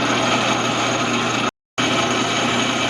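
Atlas 12 lathe cutting a gear, taking light shavings: a steady, dense machining whir that drops out for a brief moment and then resumes at the same level.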